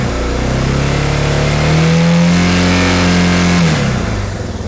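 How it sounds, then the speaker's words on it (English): A Suzuki DR650 motorcycle engine revs up steadily as the throttle opens, the pitch climbing and holding high before dropping back toward idle, loud and close with no talking. "now that it's running, I'll give it some fuel and see if we can get the charging circuit to drop on this"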